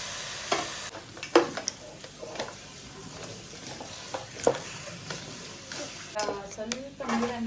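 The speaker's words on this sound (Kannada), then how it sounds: "ಬೇಯಿಸಿ ಇರ್ತಕ್ಕಂಥ ಏಡಿಯನ್ನು ಹಾಕ್ಕೊಳ್ತಿದ್ದೇವೆ" Boiled mud crab tossed into frying grated coconut: a spatula scrapes and clatters irregularly against the pan over a soft sizzle, with a voice speaking intermittently nearby.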